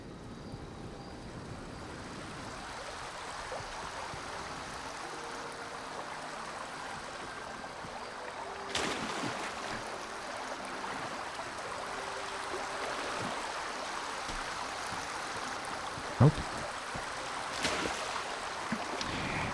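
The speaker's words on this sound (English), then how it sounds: "the water effects definitely need to be updated" Steady flowing water ambience from a video game, a faint, even rush that continues throughout with a couple of brief louder swells, and one short spoken word.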